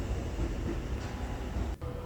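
Kintetsu limited express train running between Kyoto and Nara, a steady low rumble of wheels and carriage noise heard from inside, continuous and fairly loud with a brief dip near the end.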